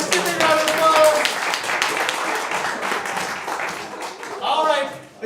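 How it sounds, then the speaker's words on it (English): Audience applause and clapping at an improv comedy show, a dense, loud round of hands that swells near the end, with voices and cheers mixed in. "give me a round of applause"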